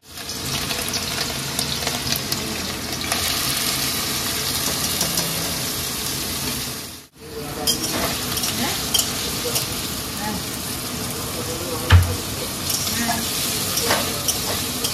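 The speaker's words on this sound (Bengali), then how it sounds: "নুন আর হলুদ দিয়ে এটা ফ্রাই হচ্ছে" Small-cut potatoes fry with salt and turmeric in a hot pan, a dense steady sizzle close to the microphone with a brief cut midway and a single thump near the end.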